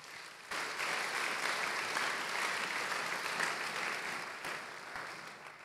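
A church congregation applauds with a steady, dense clapping that holds evenly for several seconds and fades slightly toward the end, heard at a moderate distance without speech.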